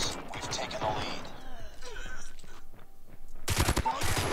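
Gunfire from Call of Duty Mobile during a hardpoint match, dense bursts of shots near the end after a stretch of game sounds and overlapping voices.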